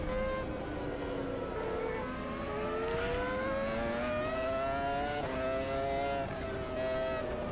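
Formula V10 Gen 2 race car engine in Automobilista 2 at Jerez, a loud, high-pitched wail that rises and dips steadily through gear changes with a brief shift blip, heard continuously without talk.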